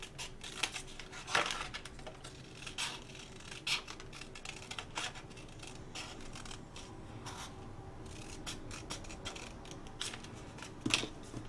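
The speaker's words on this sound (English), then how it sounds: "you're just going to cut out on your line" Scissors snip through paper along a marked line for a handmade shaker card ornament, a series of close, soft crisp cuts and rubbing sounds spaced irregularly, with a few sharper snips standing out.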